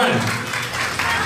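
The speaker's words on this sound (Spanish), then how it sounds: "Un aplauso muy fuerte para ella." Brief burst of audience applause at an event, dense clapping from a crowd heard for just over a second, moderately loud, with a voice partly overlapping at the start.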